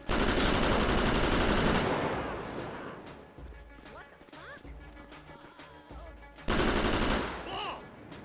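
Gunfire in the video game GTA 5 bursts out in loud rapid volleys at the start and again near the end, with quieter scattered shots and game effects between.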